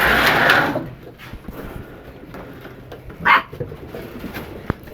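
Seven-week-old puppies give a few short, excited yips and whimpers nearby, one burst at the start and another a few seconds later, against a quiet background.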